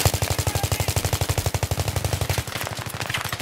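Rapid automatic gunfire sprays targets in the Battlefield video game, a loud, steady burst of evenly spaced shots lasting several seconds before tapering slightly at the end.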